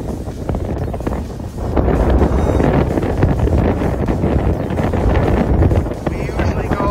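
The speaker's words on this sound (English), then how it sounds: "Oh, that wind is strong." Strong outdoor wind buffets the microphone, a loud, steady rumbling roar that grows stronger about halfway through and continues unbroken to the end.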